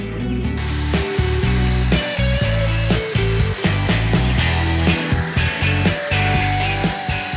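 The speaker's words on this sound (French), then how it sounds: "on va poser un filet et on va venir sécher." A hair dryer blows on hair covered by a net during beach-wave styling, giving a steady, continuous whirring rush that runs unbroken for the whole stretch at close range with no speech.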